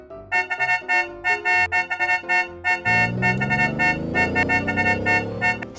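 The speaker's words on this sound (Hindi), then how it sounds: "हॉर्न बजा रहा था।" A car horn honks repeatedly outside a school, a run of short toots giving way to longer sustained blasts, loud and close with no talk.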